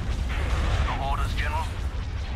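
Star destroyer turbolaser batteries firing in the Star Wars: Republic at War space battle game, a dense continuous rumble of booming blasts with sweeping laser tones, heard under overlapping voices.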